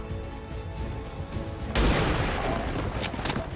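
Gunfire in the video game XCOM 2, a sudden loud blast followed by a sustained burst of rattling shots and crackling impacts, with no talk over it.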